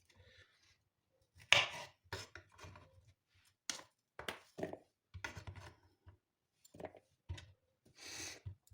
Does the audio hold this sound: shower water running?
no